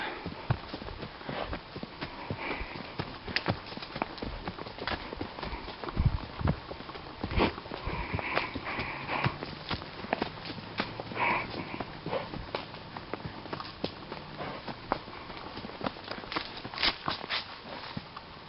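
Horse hooves clop at a slow walking pace on hard ground, steady and fairly close, with faint outdoor background and no talking.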